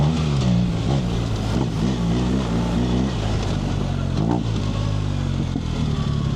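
A BMW R 1300 GS motorcycle being ridden, its engine drone steady and loud throughout, with wind rush and small shifts in pitch as the revs rise and fall.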